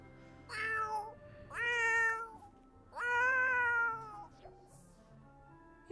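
A cat in The Sims 4 meows three times in succession, clear, drawn-out and tonal, each cry rising and falling, heard alone at a moderate level with quiet gaps between.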